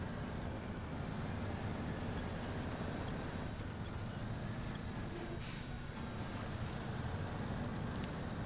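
Fleet Star truck from the game Snowrunner, a steady low diesel engine drone while driving, constant and unbroken, with a brief hiss partway through.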